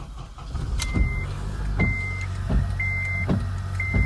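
An Acura/Honda car sits idling after ignition housing repair, its engine running with a low steady hum while a regular beeping chime sounds about once per second over it.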